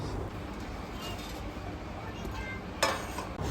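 Drumstick pod curry with sesame powder is stirred in a pan, soft scraping and light metallic clinks of a spoon against the vessel, faint and close, ending with a sharper knock.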